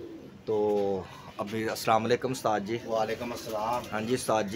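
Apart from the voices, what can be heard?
pigeons cooing on a rooftop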